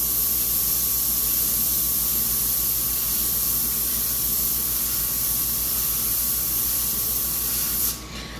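An airbrush sprays paint onto a metal 360 shield with a steady, close hiss that runs unbroken, with a faint thin whine beneath, then cuts off sharply near the end.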